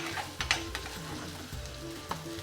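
Tofu and curry ingredients for a tikka rezala cooking down in a pan, a steady close sizzle broken by a few sharp stirring knocks and clicks.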